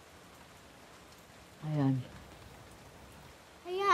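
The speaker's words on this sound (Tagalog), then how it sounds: "Medyo tumila na yung ulan." Light rain easing off, a steady soft hiss in the background while a person speaks briefly over it twice.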